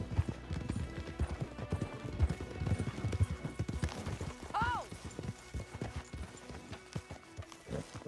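Steady clip-clopping hooves trot along with a brief horse whinny midway, mixed with ambient Red Dead Redemption 2 game sounds and some faint talk.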